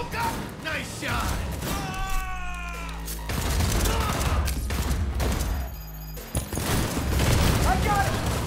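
Gunfire in the video game Cyberpunk 2077, sustained bursts of shots and mechanical clatter with a heavy low-end rumble, loud and continuous, while voices talk over the action.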